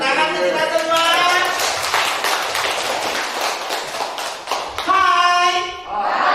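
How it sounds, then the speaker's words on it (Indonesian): Audience clapping at a teachers' training session, a burst of scattered hand claps filling most of the stretch, with voices speaking over the start and the end. "Oke, tepuk tangan kita semua."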